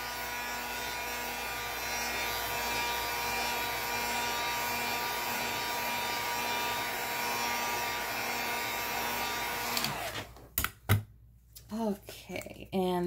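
A hair dryer blows steadily on a painted faux stone craft, a constant close whir lasting about ten seconds before cutting off, followed by brief handling noises.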